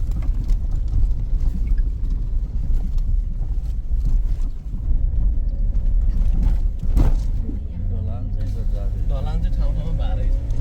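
A Suzuki Jimny fords a river, its engine rumbling low and steady while water splashes and churns around it. A voice talks over the sound throughout.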